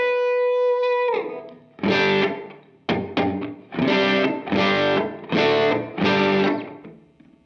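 Electric guitar with a room reverb setting from an Iridium pedal, a sustained chord ringing out, then several strummed distorted chords in a steady rhythm, each with a short roomy tail, loud and alone.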